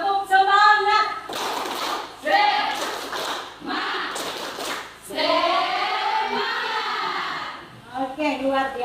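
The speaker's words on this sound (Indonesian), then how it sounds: "Lanjut supaya lebih semangat lagi. Tepuk semangat." A school class claps out the rhythmic tepuk semangat chant, with bursts of tapping and clapping mixed with children's voices calling along in pattern. The chanting continues throughout, and a separate voice is heard near the end.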